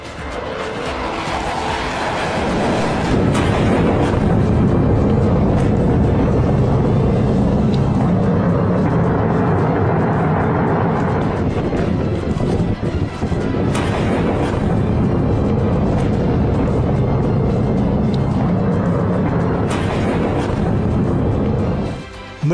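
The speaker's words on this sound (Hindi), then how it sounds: "B-52 स्ट्रेटो फोर्ट्रेस बॉम्बर की उड़ान, F-35 और F-15 की गर्जना" Jet fighters such as F-35 and F-15 roar alongside a B-52 Stratofortress bomber in flight, a loud, continuous rumbling engine roar with booming surges that holds steady for over twenty seconds.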